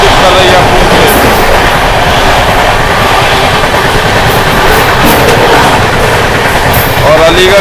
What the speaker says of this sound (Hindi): अलीगढ़ जंक्शन हाई स्पीड में भाई अलीगढ़ जंक्शन को स्किप कर रही है अपनी ट्रेन।